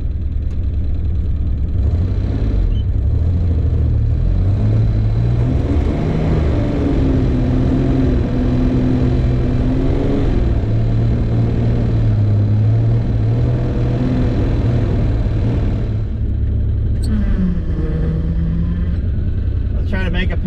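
A $500 Ford Ranger pickup pushes through a snow drift about a foot deep, its engine a loud, steady rumble whose pitch rises and falls with the throttle. A voice is faintly mixed in at times.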